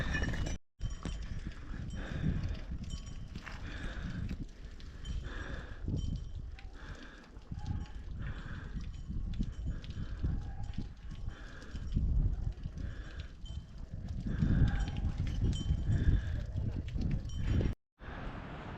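Horses stand and move about at the Kedarnath horse stop on the pilgrimage trail, with scattered hoof clops and livestock bustle throughout, fairly close and steady, against outdoor ambience.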